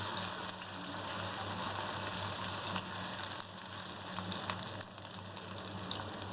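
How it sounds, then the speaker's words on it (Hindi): Ground onions sizzle in hot oil in a pan for a kofta curry, a steady crackling hiss that carries on evenly without a break, close and moderately quiet. "फ्राई करेंगे इसे।"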